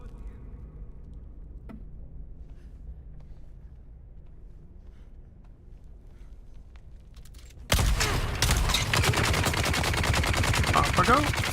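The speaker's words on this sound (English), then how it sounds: "they're shooting from over there" Gunfire in the game Dune Awakening starts suddenly after a stretch of quiet, then keeps up as loud, dense, rapid automatic bursts and overlapping shots that continue to the end.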